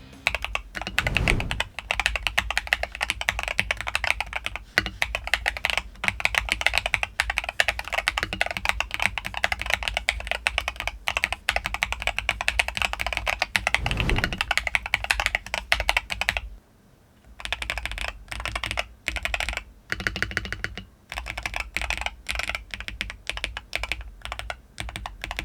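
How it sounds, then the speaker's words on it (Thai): Steady typing on an ATK RS6 Air magnetic-switch keyboard with plastic and silicone parts: a continuous run of close, quick keystrokes with a brief pause partway through, heard alone. "เสียงการพิมพ์ก็พอเหมือนกับคีย์บอร์ดแมกเนติกทั่วไปครับไปฟังกันนิดนึง"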